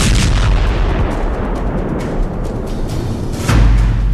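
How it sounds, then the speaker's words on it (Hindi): Cluster-munition style M30A1 rockets exploding, heard as a rapid string of sharp, loud booms and crackling blasts with one heavy deeper detonation near the end, no talk. "ये आप इन दिल दहला देने वाले धमाकों को देखकर समझ सकते हैं।"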